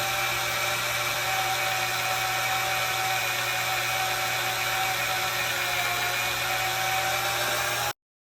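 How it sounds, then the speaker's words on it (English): A steady, high-pitched electric drill whine, drilling into metal, runs continuously at a constant speed, close and loud, then cuts off abruptly at the end. "Now you turn the drill on."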